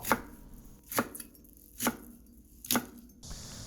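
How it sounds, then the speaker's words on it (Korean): A knife cuts through fish cake stuffed with chili peppers on a board, four crisp, evenly spaced chops about a second apart, close and clear with quiet between strokes and no talk. "모든 준비가 끝났으면 어묵과 고추를 함께 썰어줍니다"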